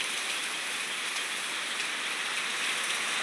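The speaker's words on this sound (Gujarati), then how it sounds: "ભૂક્કા કાઢી નાખે એટલો વરસાદ પડી ગયો છે આજે બનાસકાંઠામાં।" A downpour in Banaskantha keeps up a constant, loud wash of rain drumming on surfaces, steady and unbroken, with no one speaking.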